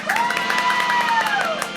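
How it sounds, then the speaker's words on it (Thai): A studio audience on a Thai food talk show cheers and claps to welcome a guest, with whoops riding over a continuous wash of applause at close, steady volume. "ขอเสียงปรบมือต้อนรับน้องน้ำพัชรพรค่ะ"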